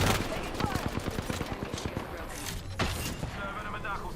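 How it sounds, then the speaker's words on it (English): Video game gunfire crackles in a rapid burst of evenly spaced shots, then a single heavier report, close and fairly loud, with a voice talking over part of it. "Getting shot at."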